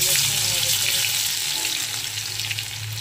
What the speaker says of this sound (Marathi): आपलं तेल गरम झालेलं आहे, त्यामध्ये जिरे मोहरी ॲड करू।